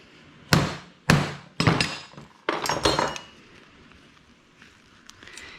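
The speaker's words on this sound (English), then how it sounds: "you're gonna come in here with the spanner, and hell yeah, just a couple whacks" A hammer whacks a spanner to free a stuck SRAM cassette on an XD freehub of a mountain bike: about five sharp, close metallic strikes in quick succession, then a quiet tail.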